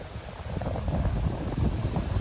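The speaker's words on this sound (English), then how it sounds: "Because right now it's pretty gusty." Gusty wind buffets the microphone on a mountain hiking trail in Shenandoah along the Appalachian Trail, a steady loud rumbling roar with no voices.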